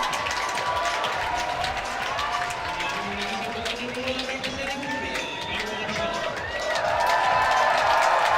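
Crowd at a men's bouldering semi-final in Salt Lake City cheering and clapping for a climber, a steady roar with whoops that swells louder near the end, while commentators talk over it.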